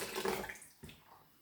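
Water splashing and draining from a handful of nuts soaked overnight in filtered water for plant-based milk, a brief close pour followed by a small second splash.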